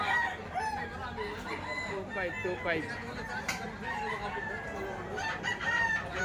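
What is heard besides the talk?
roosters crowing at a chicken market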